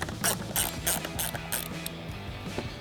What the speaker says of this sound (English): We're going to use our T20 Torx bit on our ratchet to go ahead and unscrew this.